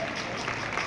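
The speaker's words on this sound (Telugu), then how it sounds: "ఒక్కసారి మళ్ళా చప్పట్లు" Audience applause at an Arya Vysya community association gathering: a steady, even wash of clapping that runs fairly quietly for the whole moment, with no speech over it.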